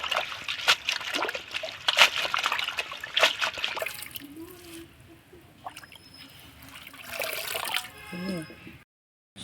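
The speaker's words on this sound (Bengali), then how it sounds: "এখন আমি ধুয়ে নেব। দুই হাত দিয়ে ভালোভাবে ধুয়ে নেব।" Leafy greens (beto shak) are washed by hand in water, with splashing, trickling and sloshing throughout and short bursts of rough rubbing and rinsing near the end.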